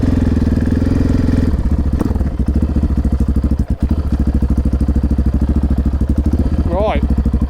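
A Honda XR650R motorcycle engine runs at a loud, steady idle, thumping evenly close by, with a voice briefly heard over it near the end.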